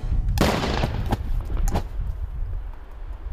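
A controlled directional explosion set off by an emergency-ministry rescue team's explosives experts: one loud, sharp blast followed by a couple of cracking bursts and rumbling debris that fades into a low outdoor roar.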